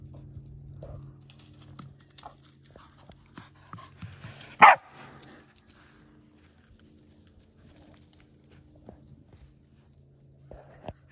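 A single sharp bark from a Cattle Dog or American Eskimo Dog rings out near the middle, close and loud, amid quiet indoor rustling and soft footsteps.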